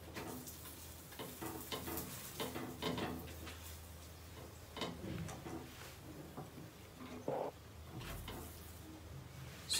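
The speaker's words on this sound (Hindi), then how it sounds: "ये पराठा हमें अभी घी से सेकना है।" A sattu-stuffed paratha roasts with ghee on a pan, giving a soft, low sizzle broken by scraping and clatter from handling it, with no talk.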